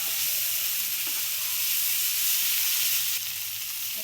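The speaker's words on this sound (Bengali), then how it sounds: "মশলা কষানো হয়ে গেছে" Spices sizzling and frying steadily in a pan for a pangas fish curry, a continuous close hiss with a faint stir or scrape near the end, no talking.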